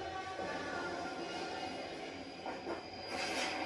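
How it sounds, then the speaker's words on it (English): A train rumbles steadily through the biggest railway station in Dhaka, a broad continuous roar of wheels and carriages heard from nearby, with faint squeals rising toward the end. "This is the biggest railway station in Dhaka City."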